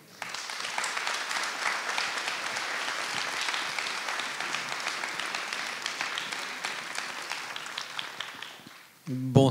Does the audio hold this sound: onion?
no